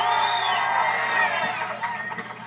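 A crowd at a 1986 metal show in Queens, New York cheers and whoops for a performer, a loud, dense roar of voices that fades slightly toward the end.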